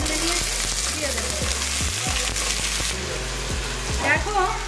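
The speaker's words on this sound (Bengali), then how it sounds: "আমি আলুটা ভাজতে দিয়েছি," Diced potatoes fry in a pan with a steady, close sizzle, while a spatula stirs and scrapes in a regular rhythm of sharp knocks.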